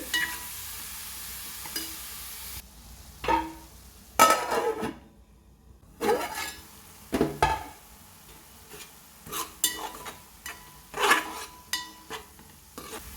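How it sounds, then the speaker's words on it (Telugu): Grated onion frying in a pan for a fish curry, with repeated scraping and stirring strokes of a spoon against the pan over a steady low sizzle, close and alone with no talking. "ఉల్లిపాయ తురుమేసుకోవాలండి రెండు నిమిషాల పాటు బాగా వేగనివ్వాలండి"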